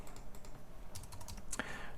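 Code is being typed on a computer keyboard in quiet, soft bursts of key clicks with a sharper clack near the end, close by and with no talking.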